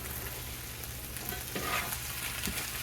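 Ground meat in sloppy joe sauce sizzles steadily in a pan, a soft, continuous frying hiss with faint bubbling pops, quiet and close with no talk.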